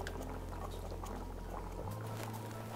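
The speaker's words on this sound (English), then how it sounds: "we're gonna go ahead and bring this to a boil also" A pot of celery seed and black pepper mixture heating toward a boil, giving a faint, steady bubbling and simmering hiss that carries on unbroken.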